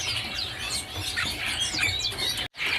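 A caged cucak cungko songbird at a bird kiosk chirps and tweets repeatedly in quick, bright bursts, close and clear, with a brief break near the end.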